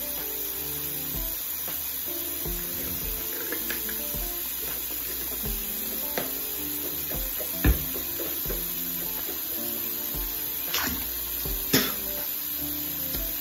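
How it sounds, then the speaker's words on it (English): Mouthwash rinsed out at a bathroom sink with the tap running, a continuous close hiss of water broken by a few louder splashes and spits. "now I just rinse the mouthwash"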